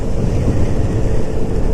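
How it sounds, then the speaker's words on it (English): Steady low rumbling wind buffeting the microphone, loud and continuous throughout with no voices. "it's been a windy day today and it's still pretty windy"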